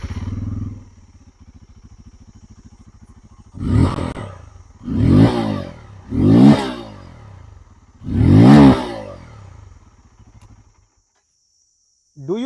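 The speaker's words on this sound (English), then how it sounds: "But what does the 2024 Bajaj Pulsar N250 sound like? Well, this is what it sounds like." A 2024 Bajaj Pulsar N250 motorcycle revs from a steady idle in four strong, separate blips, each rising and falling back, close and loud, before the engine cuts out near the end.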